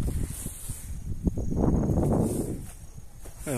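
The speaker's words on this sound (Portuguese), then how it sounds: "Ó o ventão. Ó o vento. Vento tem. E é bastante." Strong wind buffeting a microphone outdoors during kite flying, a rough rumbling gust that swells in the middle, with rustling and faint handling noise and no talk.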